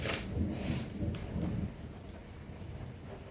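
Thunder rumbles low outside during a thunderstorm, with steady rain hissing underneath throughout and a few rolling swells early on that fade into a continuous wash of rainfall.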